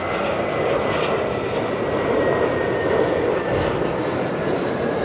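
A United Airlines Airbus A320 jet passes at LAX with a steady, loud, broadband engine roar that fills the whole stretch, wind buffeting the microphone and no talking.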